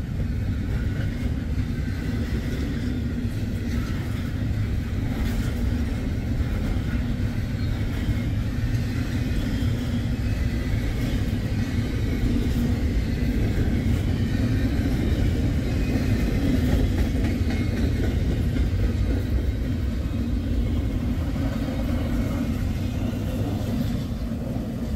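A train rolls by on a railroad line in a steady, continuous low rumble with faint rhythmic rail clatter, loud and close throughout with no voices.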